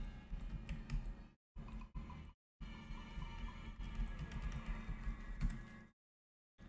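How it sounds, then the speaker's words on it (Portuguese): Keyboard keys pressed on a setup for playing a Lara Croft Tomb Raider game on Android, quick close clicking bursts separated by short silent gaps, no voices. "Tô apertando aqui os botões do teclado e não deu."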